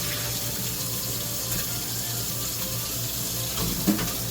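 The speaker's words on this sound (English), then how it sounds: "I'm going to rinse out the pot with cold water too," Tap water pours steadily into a metal pot, a close, continuous splashing rush with a faint clunk near the end.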